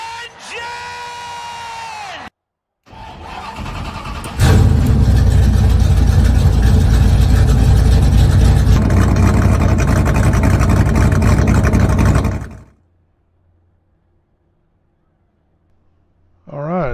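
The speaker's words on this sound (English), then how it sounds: "Driver, start your engine!" Race truck engines fire up together at Talladega Superspeedway and roar loud and steady for several seconds before cutting to silence, after an announcer's voice calls the start.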